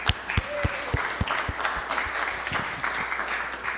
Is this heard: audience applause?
yes